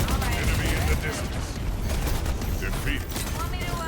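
Continuous spaceship gunfire from the video game Wildgate, a dense, loud stream of rapid shots with mechanical clatter, busy and sustained throughout.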